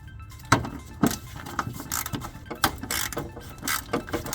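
A 15mm ratchet wrench works the hood latch bolt on a Jeep TJ, giving several separate metallic clicks and clunks at an uneven pace, close and fairly loud, with no talking.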